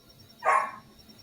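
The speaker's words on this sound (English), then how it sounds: "That's a dog. That is a dog." A single dog bark rings out in the distance, short and moderately loud, over a quiet room background with no one talking.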